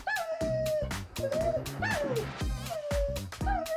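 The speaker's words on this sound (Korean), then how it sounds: "강아지들은 발톱 깎는 걸 좋아하지 않아요." A dog whimpers and yelps in high, wavering cries during nail trimming, several close, loud whines in quick succession with short sharp noises between them.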